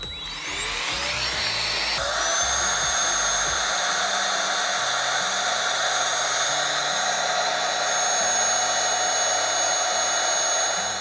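A Giga Pump 4.0 portable air pump starts up with a rising whine and then runs at a steady, loud, close-up hum and whir while deflating a vacuum bag.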